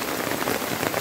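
Steady rain pouring down in Boracay during typhoon season, a dense, even hiss of drops on surfaces, close and continuous.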